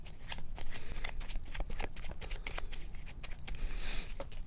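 Tarot cards are shuffled in quick, dense bursts of crisp riffling and slapping, close and clear, with no voices.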